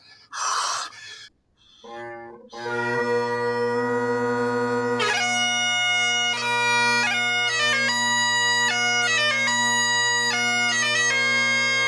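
Bagpipes strike up with a steady low drone, then a bright melody, the EastEnders theme, plays over it, loud and continuous after a brief breathy start.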